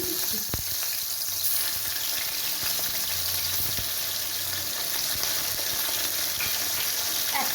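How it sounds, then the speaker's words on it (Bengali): Pieces of fish fry in hot oil for a potato and fish curry, giving a loud, steady sizzling hiss with occasional sharp pops and clinks of a utensil. "বাকি মাছগুলো আমি এইভাবে ভেজে নেবো"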